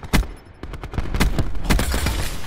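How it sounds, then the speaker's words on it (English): Shotgun fire in Black Ops 4 team deathmatch on the Casino map, a handful of sharp booming blasts spaced irregularly amid rapid gunfire clatter, loud and close. "He's using the shotgun, right?"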